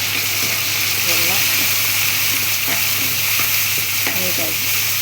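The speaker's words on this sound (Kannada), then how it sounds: "ಸ್ವಲ್ಪ ಟೊಮೆಟೊ ಎಲ್ಲ ಚೆನ್ನಾಗಿ ಬೇಯಬೇಕು, ಇದರಲ್ಲಿ ಎಣ್ಣೆಯಲ್ಲೂ ಚೆನ್ನಾಗಿ ಬೇಯಬೇಕು" Tomato cooking in hot oil in a pan gives a steady sizzle and hiss throughout, with occasional stirring clinks, and a voice speaks faintly in the background.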